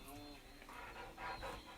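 A pet dog named Max panting close by in quick, soft breaths during a gentle home stretching session, with faint background noise.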